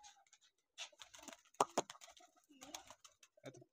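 Pigeons coo softly in a few short, faint calls spaced across a quiet moment.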